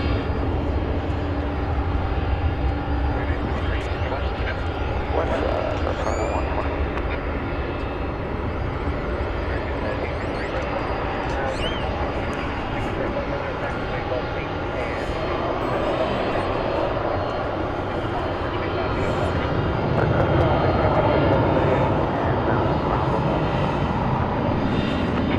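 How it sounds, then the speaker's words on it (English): Airliner taxiing at DFW Airport, a steady broad engine rumble and whine held close and continuous throughout, with no talk over it. "And it's another 20th century aircraft we salute now."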